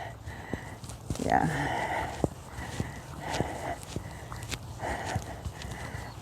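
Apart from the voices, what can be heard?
ridden horse walking, hooves clip-clopping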